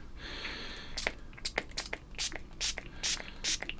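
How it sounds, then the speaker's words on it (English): A series of short, sharp hissing bursts from a fine atomizing spray bottle wetting model railway track ballast, roughly a dozen in quick irregular succession, fairly close and moderately loud over a quiet background. "I'm just using any sort of fine atomizing spray, and then just really spray"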